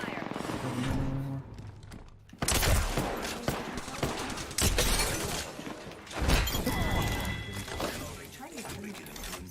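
Bursts of gunfire crackle through an Apex Legends firefight, loud volleys and sharp cracks recurring across the stretch, with game voice lines and effects layered in.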